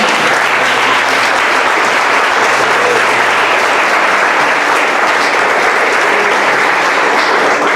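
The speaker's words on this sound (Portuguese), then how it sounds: "Aplausos bem forte, gente." Church congregation applauding loudly and steadily, a dense sustained wash of many hands clapping throughout, with no talk over it.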